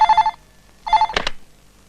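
A telephone bell rings loudly in two short bursts with a pause between them, then a quick clatter like a handset being lifted.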